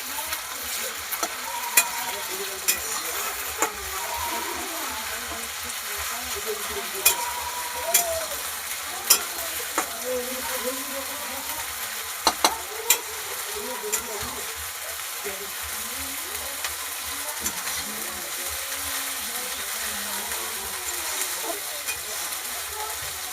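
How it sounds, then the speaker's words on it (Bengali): Spices frying and being stirred in a pan before meat is added, a steady sizzle with repeated scraping stir clicks throughout, close and alone. "মশলাটা ভালো করে ভাজা হয়ে গেছে"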